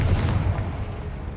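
A Confringo blasting spell explodes in a Harry Potter video game, a dense, booming burst with heavy low rumble that fades slowly over about a second, with no talk over it.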